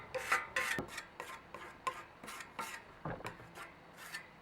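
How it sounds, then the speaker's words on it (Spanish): Plastic putty is spread on a metal pergola with scraping and smearing strokes, one after another at close range. They are short, uneven and moderately quiet, with a few light metallic taps. "ahora le voy a pasar un poquito de masilla plástica"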